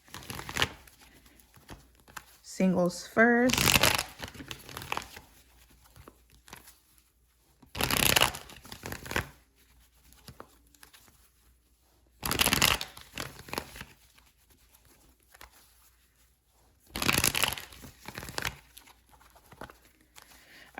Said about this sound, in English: So let's get a good shuffle in.